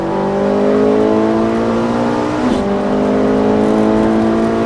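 A Ferrari 458 sports car engine roars loudly and steadily on a track, its pitch climbing in a smooth rising whine with a brief dip midway, no voices present.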